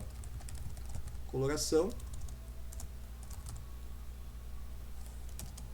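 Computer keyboard typing in soft, scattered clicks and taps, spread sparsely over several seconds, with a short burst of speech in between.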